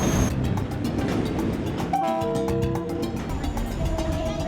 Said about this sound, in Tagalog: Araw-araw may 4 na tren na bumabiyahe dun sa rutang yon.